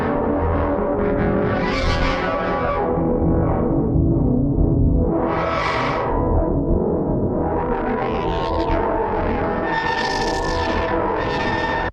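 Additive synthesizer from the free Mystery plugin producing a dense, constantly shifting tone with sweeping, whooshing filter-like movements, heavy effects and reverb, loud and continuous with no talking.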